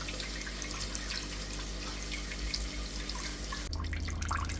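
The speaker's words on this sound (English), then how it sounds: "So for the coconut, we're just going to strain that out to get all that nice juice." Coconut milk strained from grated coconut for Jamaican rice and peas, a steady wash of running liquid close by that shifts to a heavier pour near the end, with no talk.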